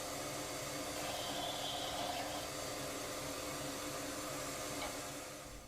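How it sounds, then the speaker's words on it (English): A disc sander mounted on a homemade lathe shapes a wooden pumpkin, giving a continuous steady whirring hiss with a faint grinding texture that holds level throughout. "Using the disc sander that I got on the lathe that I made myself"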